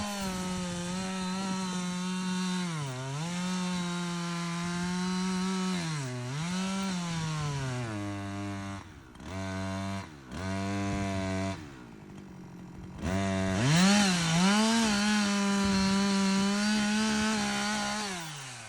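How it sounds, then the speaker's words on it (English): A power saw cuts a firewood block in half, the engine holding a loud, steady whine with pitch dips as it bites into the wood, then a brief break near the end before the cutting note rises again. "I use my power saw to cut the block in half"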